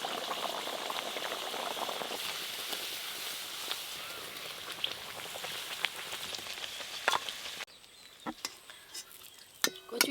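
Dal kachori deep-frying in hot oil: dense, loud sizzling and bubbling that fills most of the clip, then drops to a quieter simmer broken by a few sharp utensil clinks.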